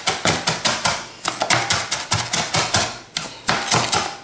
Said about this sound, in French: je vais les affiler à l'aide de mon couteau